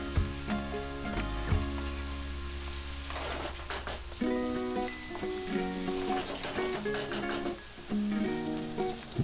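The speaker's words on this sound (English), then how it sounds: "Then fry this for about 2 to 3 minutes. Let the vegetables nicely cook in the sauce." Vegetables fry in Schezwan sauce in a hot pan, a continuous sizzle and crackle broken by intermittent scraping and clanking of a stirring utensil against the pan.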